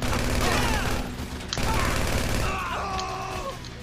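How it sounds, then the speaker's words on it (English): Gunfire in the video game GTA 5, a burst of rapid shots and rattling fusillade amid game noise, with voices talking over it. "There's people shooting at us."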